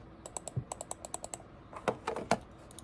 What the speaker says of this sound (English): I'll click the mouse so you can hear this.